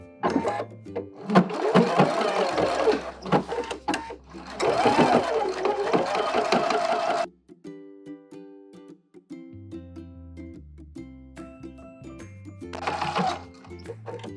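A sewing machine stitches down the waistband of heavy denim twill high-waisted shorts in loud, close bursts separated by pauses, with music playing underneath.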